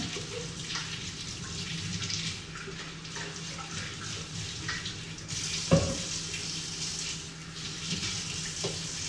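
Tap water runs steadily into a sink while something is washed at home, a continuous hiss with a brief clunk partway through and no talking.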